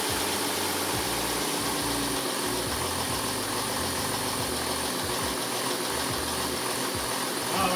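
A 3.0 TDI diesel engine, just fitted with an upgraded CP3 fuel pump, idles steadily with a dense, rough, even clatter and low throb that holds unchanged and loud throughout.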